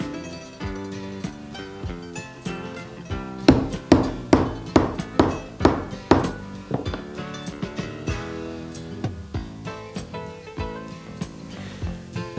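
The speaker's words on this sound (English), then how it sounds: "Punch a hole and set a rivet to reinforce the top of the sheath." A rivet set into a leather holster sheath with a hammer and setter, a run of sharp metallic taps that grows to a quick series of firm blows midway, then lighter taps, over faint background music.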